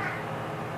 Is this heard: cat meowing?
yes